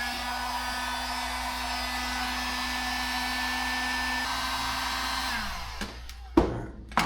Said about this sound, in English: Got my old little Harbor Freight heat gun.